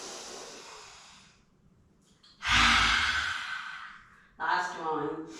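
Deep yoga breaths with the tongue stuck out: a long airy exhale fades out, then a strong rushing breath and a shorter voiced one follow, close and loud, with a teacher's breathy cueing voice.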